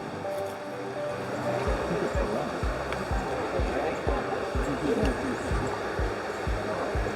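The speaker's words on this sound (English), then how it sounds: "we're crossing over the little rocky streams" Small rocky stream flowing beside a trail on an off-road excursion near Castries, St Lucia: a steady, close burble and rush of water, with rhythmic low thumps like footsteps throughout.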